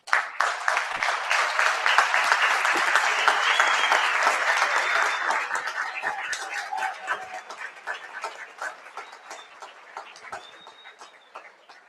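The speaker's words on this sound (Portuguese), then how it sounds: "Então eu gostaria, inclusive, de pedir uma salva de palmas para os nossos alunos." An audience at an evening law-week event bursts into a dense round of applause for students, loud at first, then thinning and fading over about twelve seconds, with a few faint bird chirps in the background.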